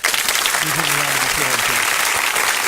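Audience applause at a gathering, a dense, loud wash of clapping filling the whole moment, with a voice talking underneath it.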